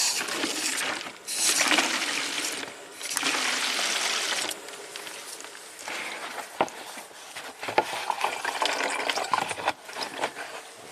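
Coolant flushes out of a 2010 Subaru Tribeca H6 engine into a gallon jug, a steady splashing, trickling pour that runs for about eleven seconds with brief dips and surges in flow.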